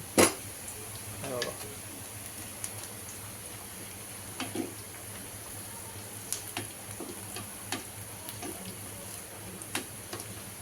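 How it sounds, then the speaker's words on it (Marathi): Onions fry in a pan at home during biryani preparation, giving a faint, steady sizzling hiss with scattered light taps and clicks of stirring throughout. "आईला कांदा भाजत आहे कांदा भाजत"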